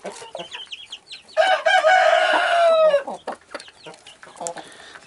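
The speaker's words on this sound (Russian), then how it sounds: "вот курочка кушает" A hen clucks repeatedly in short bursts while pecking dry feed, with one loud, drawn-out squawking call in the middle, close by, over a light background.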